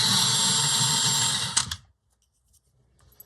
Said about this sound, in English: But I do feel like it's about time for me to have a little sharpen